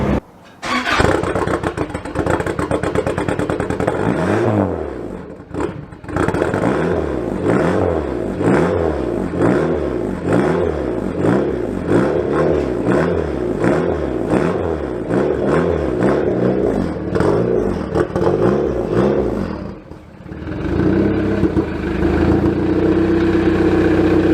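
Turbocharged Honda Prelude engine starting and revving in short bursts kept below 3,000 rpm, each rise and fall repeating in a steady cycle, loud and close, settling into an idle near the end.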